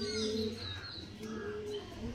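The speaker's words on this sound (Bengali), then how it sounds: "চলো কথা না বাড়িয়ে পায়রাগুলো ছেড়ে তোমাদেরকে দেখাই" Tippler pigeons released from a loft give soft repeated cooing, close by and fairly steady, with a few brief chirps mixed in and no talk.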